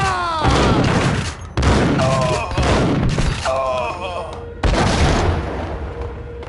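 Gunfire in Max Payne: loud, close bursts of shots and booming blasts in several heavy clusters, each followed by a ringing decay, with shouted voices between them.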